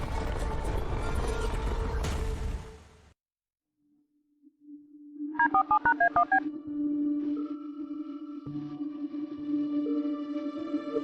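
A quick run of telephone dialing tones beeps out in rapid succession, followed by a steady ringback hum, after a burst of noise and a short silence.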